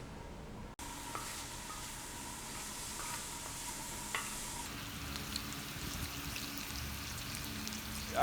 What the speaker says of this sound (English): First thing I've got going on is bacon that I've cubed up. We're gonna render that down to get it crispy.